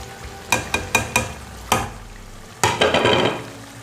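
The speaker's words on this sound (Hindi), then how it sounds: "चार से 5 मिनट भूनेंगे" Browned onion being stirred and fried in a pan of hot oil while cooking green chicken, with a steady sizzle broken by several sharp scraping strokes of a spoon, then a denser burst of stirring toward the end.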